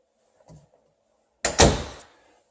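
A house door in a rental property gives a soft knock, then after a pause a solid thump as it swings shut or is pushed open, close by and alone.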